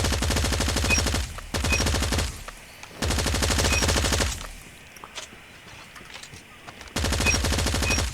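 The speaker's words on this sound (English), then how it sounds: "now in terms of the AK117, of course, it's a fast-firing, low recoil, high accuracy gun" AK117 rifle fire in Call of Duty Mobile, loud rapid automatic bursts with a fast, even cadence, three long sprays broken by quieter gaps of distant game noise, with no talk.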